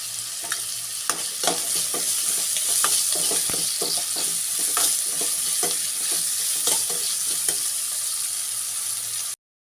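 Vegetables frying in a pan for egg noodles, a loud close steady sizzle with repeated scraping and stirring strokes throughout, ending abruptly, with no talking.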